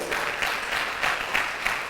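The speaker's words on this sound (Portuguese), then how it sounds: "Dá um aplauso ao Senhor aí" Worshippers in a church congregation clap together in praise, a dense, moderately loud burst of applause with sharper claps standing out throughout.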